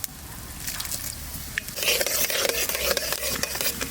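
Whole cardamom, cinnamon, cloves, coriander and cumin dropped into hot oil for a chicken curry, a soft crackling sizzle that swells midway and continues steadily with light stirring scrapes.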